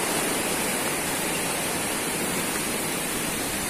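Steady, broadband rushing of a river flowing beside a secluded village house in rural Banyumas, a continuous close wash of water with no breaks and no voices.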